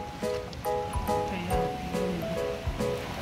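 Choppy ocean waves wash along a beach in a steady broadband rush, with other faint tonal sounds layered over the surf.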